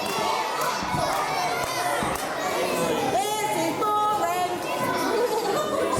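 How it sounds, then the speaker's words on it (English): An arena crowd at a professional wrestling show chatters and shouts in a constant, dense murmur. Scattered calls and a few thuds rise out of the steady din. "Crowd there getting frustrated at the delaying tactics by Dale Preston."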